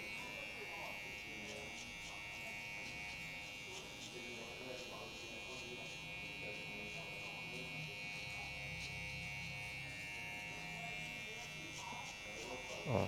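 An electric hair clipper buzzes steadily at close range while cutting a mid fade, its whine constant and fairly quiet with faint handling noise throughout.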